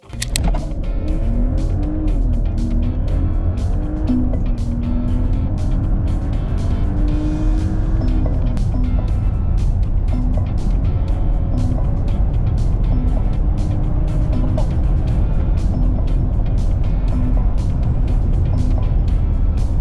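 A 2024 Mercedes-Benz GLE 450 petrol 4MATIC luxury SUV makes a full acceleration run. Its engine drones loud and steady close up for about twenty seconds, the pitch climbing and dropping through the gear changes.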